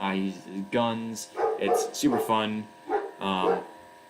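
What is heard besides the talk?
dog barking in the background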